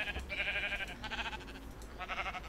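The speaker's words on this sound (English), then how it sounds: "spawn some sheep up in here." Blocky Minecraft sheep bleat in three short, wavering calls one after another, fairly close and clear, against a quiet game soundtrack with no talking.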